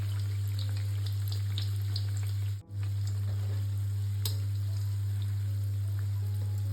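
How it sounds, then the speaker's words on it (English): Akara bean fritters fry in oil over medium-low heat, giving a soft continuous sizzle with small pops and crackles over a low steady hum, with no talking. "Make sure you are frying this on a medium low heat so it can fry properly on the inside as well."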